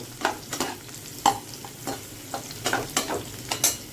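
Jackfruit pieces for kofta fry in a pan while a spoon stirs them, with a steady low sizzle and irregular scraping clinks close by, no voices.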